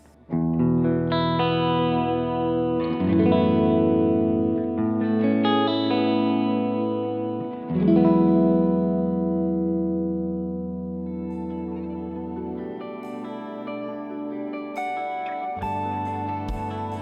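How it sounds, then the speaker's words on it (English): An electric guitar plays sustained chords through an amp modeled by a Strymon Iridium, dry and up front with no added echo, ending in a few higher picked notes. "So here's how it sounds before reverbs and delays."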